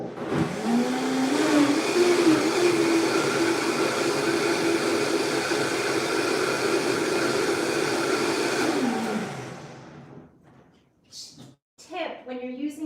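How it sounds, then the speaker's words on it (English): A high-performance blender roars loudly and steadily for about nine seconds, pitch rising slightly, then cuts off, followed by quieter clattering sounds. "And now I better blend before I put anything in."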